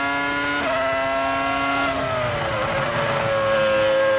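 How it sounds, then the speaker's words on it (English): Rubens Barrichello's Formula 1 car at the 2000 Malaysian Grand Prix, its V10 engine screaming loud and close with a steady high-pitched whine that dips and climbs through gear changes, no voices over it. "listen to that V10."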